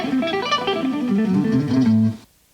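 A guitar picks a fast triad exercise one note per string, a quick run of bright single notes ringing out for about two seconds before stopping into silence.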